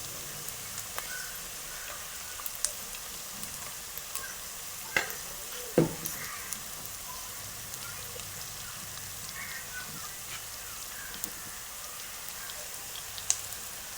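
Beef fry with chili, coriander powder, garam masala and asafoetida sizzles steadily in a pan, a continuous crackling hiss broken by occasional stirring scrapes and taps, near and fairly quiet, with no talk.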